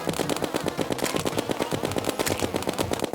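A snowball cannon fires in rapid automatic bursts in the video game Terraria, making a fast, evenly spaced stream of punchy thuds that runs continuously without talk.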